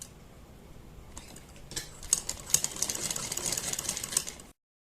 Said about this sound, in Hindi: तब हम यहाँ पर इस तरह से सिलाई लगाएंगे।